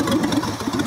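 A 1965 Ford F100 engine that has long sat buried outdoors, now idling steadily with a smooth, even low rumble close by.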